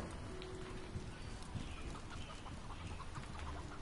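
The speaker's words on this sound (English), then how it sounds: "Just ignore the bird." Clucking of a chicken-like bird in the video game Destiny 2, low and steady within a dense, noisy mix of game sound with no clear talk.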